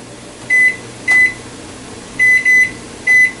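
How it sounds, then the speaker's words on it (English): Kitchen timer being set while pretzel bites boil, giving four short, bright electronic beeps at uneven intervals, loud and close over a faint background hum. "So I'll set a kitchen timer here"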